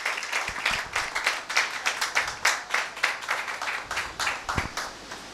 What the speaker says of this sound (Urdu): آئے ہم زوردار تالیاں اپنی بیٹی کے لیے بجائیں گے